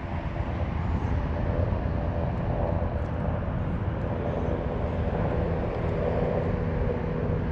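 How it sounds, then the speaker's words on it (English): A helicopter passes over Shore Road Park in Bay Ridge, Brooklyn, near the Verrazano Bridge, heard as a steady, broad, distant roar that holds at an even level throughout with no talking. "I hear a helicopter, so let me stop."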